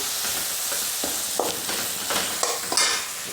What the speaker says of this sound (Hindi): टमाटर भुन रहे हैं